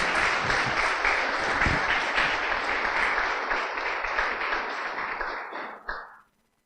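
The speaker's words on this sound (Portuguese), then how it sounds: "Você pode aplaudir o nome do Senhor nessa noite?" A church congregation applauds during an evening worship service, steady broadband clapping that holds for several seconds, then thins and fades to silence near the end.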